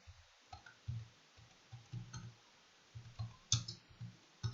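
A computer mouse clicking close up in a quiet room, a dozen or so short crisp clicks at irregular intervals, some in quick pairs, with no talk.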